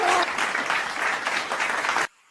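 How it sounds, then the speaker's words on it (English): Steady clapping applause from a small group, loud and continuous for about two seconds before cutting off abruptly. "let me clap for you and my brother for getting to the promised land"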